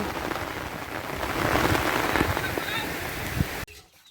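Steady rain pours down in a dense, even hiss with soft patter, close and fairly loud, cutting off abruptly near the end.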